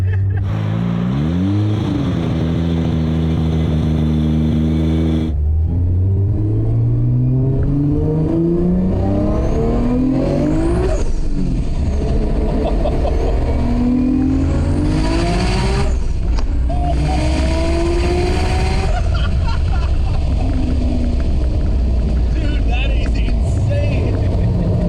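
A 1200HP TRC Toyota Supra with a 3.2L Dart 2JZ engine revs hard toward 9000 RPM during a ride-along, its loud engine pitch climbing again and again through repeated pulls and gear changes, with occupants' voices under the roar.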